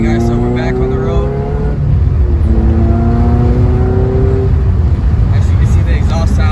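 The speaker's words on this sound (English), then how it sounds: "As you can see, the exhaust sounds amazing." A Toyota MR2 Spyder with a swapped K24 engine and a 3-inch MagnaFlow exhaust running without a catalytic converter drives on the road, its engine droning and rising through the revs in loud, close steady pulls.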